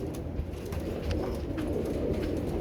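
Pigeons coo softly in a loft, a low continuous murmur of several birds close by, with no talking.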